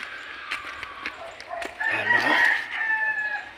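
Chickens cluck nearby in short bursts, with a rooster-like call rising in the middle, over quiet rustling outdoor background.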